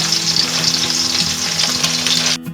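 Sliced onions fry steadily in hot oil for vegetable biryani, a dense continuous sizzle that holds close and loud before cutting out abruptly near the end.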